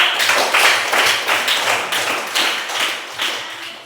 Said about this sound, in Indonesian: Tepuk tangan untuk Oli.